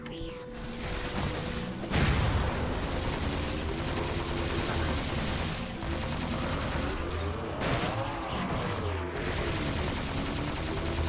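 Rapid, continuous automatic fire from a modded weapon in Halo: The Master Chief Collection, a dense loud stream of shots with mechanical whine and game effects layered over it, no talk.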